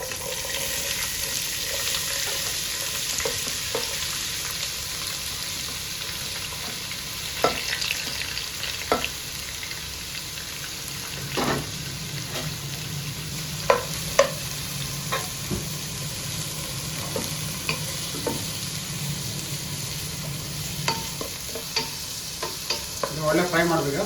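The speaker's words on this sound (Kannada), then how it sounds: "ಒಳ್ಳೆ ಫ್ರೈ ಮಾಡಬೇಕು, ಸಾಫ್ಟ್ ಆಗಬೇಕಂತ ಫ್ರೈ ಮಾಡಬೇಕು." Four medium onions frying in a pan with cumin for Patiala chicken, a continuous soft sizzle with occasional spoon stirs and clinks, close and steady with no talking.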